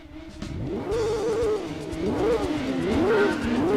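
A racing car in Gran Turismo 2 accelerates hard, its engine note climbing and dropping through repeated gear shifts, loud and continuous with no talk.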